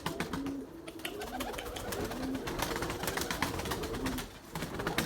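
Young pigeons, still unable to fly, give soft repeated coos in a loft, mixed with fluttering, scratching and clattering noises close by.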